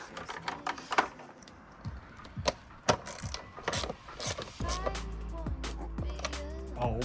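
A ratchet wrench with a 10mm socket clicks in quick, close bursts of sharp ratcheting, irregular and fairly loud, with a low hum and other mechanical noise building in the latter half.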